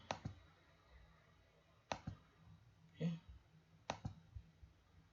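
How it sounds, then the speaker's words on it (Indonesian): Computer mouse clicked repeatedly during a home physics free-fall analysis, four sharp double clicks spaced about two seconds apart, close and faint, with a brief murmur of speech between. "klik lagi titik tengah"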